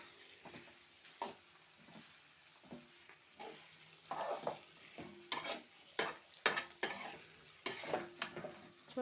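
Home-grown broad beans (chikkudu) frying in oil, a low sizzle broken by repeated loud stirring scrapes and clinks of a spoon against the pan, growing busier toward the end.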